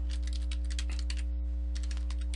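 Someone types a password on a computer keyboard at a Windows Server 2012 R2 login. The key clicks come in a quick, steady run with one short pause, over a constant low electrical hum.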